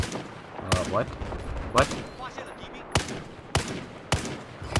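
Gunfire in the video game Battlefield 4, with sharp, loud shots firing in irregular bursts and single cracks, and a player talking between and over them.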